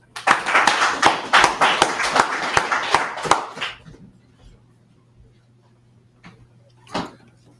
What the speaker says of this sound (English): His brother, a round of applause.